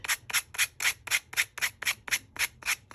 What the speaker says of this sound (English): When you're sanding clay